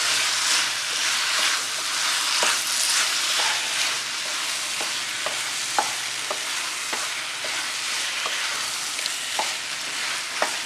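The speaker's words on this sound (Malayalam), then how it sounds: "തക്കാളി ഇട്ട് നന്നായിട്ടൊന്ന് വഴറ്റി കൊടുക്കണം." Chopped tomatoes sautéing for a Malabar fish biryani masala sizzle steadily in a pan, with a continuous bright frying hiss punctuated by regular clacks of a spoon stirring against the pan, close up and with no talking.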